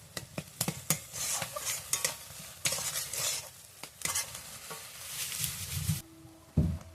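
A mustard spice paste with chopped tomato fries and is stirred in a pan. Rapid, repeated spatula scrapes and knocks sound over a continuous close sizzle, and a duller pot clank comes near the end, with nobody talking.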